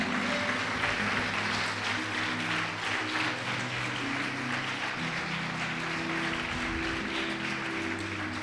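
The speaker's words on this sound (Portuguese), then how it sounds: "Você pode aplaudir o Senhor Jesus por isso?" Sustained applause from a large church congregation during a sermon fills the space, a dense, even wash of clapping with a low musical tone humming underneath.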